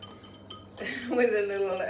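A big kitchen whisk clinks against a dish a few times, light metallic taps followed by a brief rattling scrape, with a voice speaking in the background.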